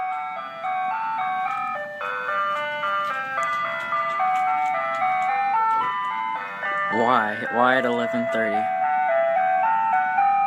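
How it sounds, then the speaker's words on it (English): Ice cream truck chiming its jingle loudly outside at night, a steady melodic tune playing continuously while someone speaks over it in frustration. "11:30 p.m. and there's an ice cream truck."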